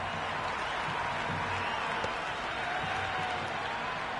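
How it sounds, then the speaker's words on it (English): A stadium crowd cheers at a cricket match in the video game Cricket 26, making a steady, dense roar of distant voices that holds at an even level throughout. "the crowd have joined the party. It's pretty noisy at the ground."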